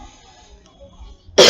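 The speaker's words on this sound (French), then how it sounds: "Excusez-moi pour ma petite toux qui est au rendez-vous aujourd'hui." A single sharp cough from a man preaching a French sermon on Deuteronomy, sudden and loud at the very end after near-silence.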